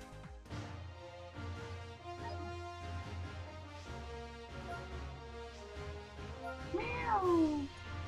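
A pet cat meows over steady background music, with one clear, drawn-out meow that rises and then falls near the end.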